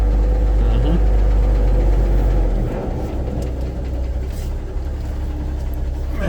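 A 1974 Ford truck engine running on a farm, a loud close idle with a deep rumble and uneven knocking pulse that drops slightly in pitch partway through and then carries on steadily.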